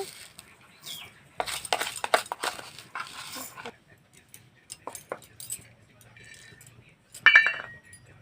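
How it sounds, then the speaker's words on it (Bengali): A spoon clinks against a mixer grinder jar while three spoonfuls of sugar go in, with scattered metallic taps and scrapes and a sharper clatter near the end, close and fairly quiet. "দেখুন মিক্সিতে আমি তিন চামচ চিনি নিয়ে নিচ্ছি"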